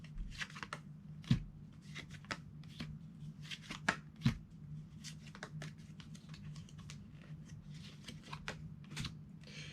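Cards from a Superthings card game are flipped rapidly through a pile, giving a quick, irregular run of soft papery flicks and snaps close by, with no talking.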